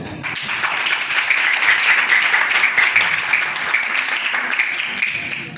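A church congregation claps in sustained, dense applause during a Sunday Advent service, loud and continuous throughout.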